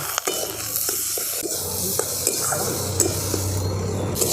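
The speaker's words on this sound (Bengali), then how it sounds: "এবারে ভালো করে মশলাটা আমি একটু আলুর সাথে কষিয়ে নিচ্ছি।" Spice paste and potatoes being sautéed in a pan for a fish curry with eggplant and lentil dumplings, a steady sizzle with scraping stirs of a spatula against the pan, close and continuous.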